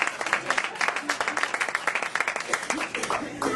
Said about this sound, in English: give my mother a round of applause